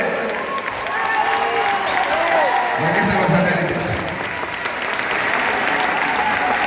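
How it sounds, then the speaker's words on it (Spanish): A crowd at an outdoor orchestra concert in Arteixo applauds loudly and continuously, a thick wall of clapping with scattered cheers, while someone talks over it. "Aplausos fuerte."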